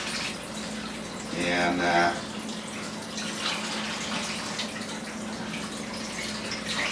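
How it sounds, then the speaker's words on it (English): Tap water runs over tomatoes being washed in a sink, giving a steady splashing flow with a louder gush partway through, while a person talks over it. "Wash these tomatoes down"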